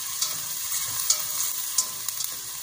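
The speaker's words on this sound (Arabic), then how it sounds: "بننزل الثوم، كمان بنعمله تشيحة هيك خفيفة" Garlic sizzles lightly in a pan with onion as it is stirred, a soft steady frying hiss with a few sharp crackles and spatula scrapes, close up and with no talking.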